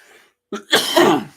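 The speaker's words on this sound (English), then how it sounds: "the talking's starting to trigger my cough a little" A single short, harsh cough after a brief moment of quiet, close and fairly loud, with a faint breathy sound before it.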